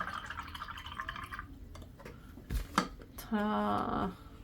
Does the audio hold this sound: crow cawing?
no